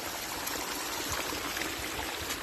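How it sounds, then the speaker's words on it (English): Steady rushing water pours across a washed-out stretch of the Appalachian Trail in rain, a continuous broadband wash heard close with no voices. "there's water coming out of everywhere."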